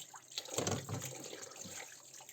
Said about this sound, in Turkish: Ben bunu yıkamaya devam edeceğim bu şekilde.